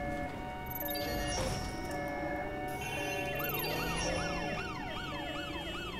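Ambulance siren in the London-set video game Watch Dogs: Legion, a steady wailing sweep rising and falling repeatedly over continuous traffic and engine rumble, loud and sustained throughout.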